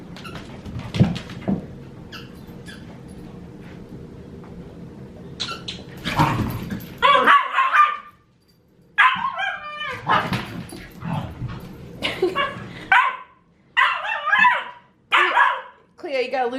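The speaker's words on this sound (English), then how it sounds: "you gotta loosen up that growl" A dog gives low growls followed by a run of sharp, close barks and yelps in bursts, with a person talking between them.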